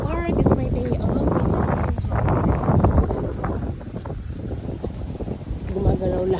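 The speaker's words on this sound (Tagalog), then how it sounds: "ang lakas ng hangin oh" Strong gusting wind in a park roars steadily into the microphone as a continuous loud buffeting rush, with a person talking over it.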